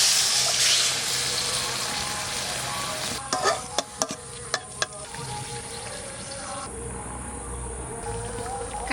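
Fish cooking with spices in a pan in a village kitchen, giving a steady broadband sizzle and frying hiss with a few sharp clinks and stirring knocks midway, close and continuous.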